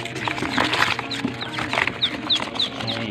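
Peking ducklings from a backyard farm make a stream of high, repeated peeping chirps close to the listener, several short calls a second, over rustling and a faint low hum.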